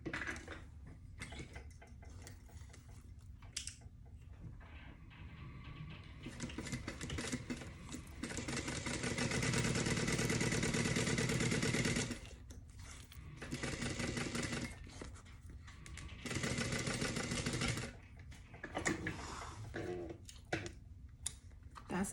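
A sewing machine runs a tight 1/8-inch seam along the border of a Georgina convertible tote bag, whirring in sustained bursts with brief pauses between runs, close and fairly loud with no talking.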